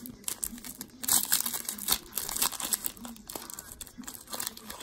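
A Yu-Gi-Oh Dark Crisis booster pack being torn open, with close crinkling foil wrapper and sharp tearing rustles coming in bursts, fairly quiet, with no clear talk.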